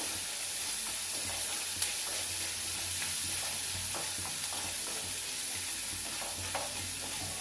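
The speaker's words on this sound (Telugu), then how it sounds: "కొంచెం ఉప్పు వేస్తానండి. బ్రౌన్ కలర్ వచ్చేదాకా వేసుకోవాలండి." Sago pearls for sabudana upma fry in a pan with salt, giving a steady, even sizzle with occasional soft clicks of stirring, close and continuous without talk.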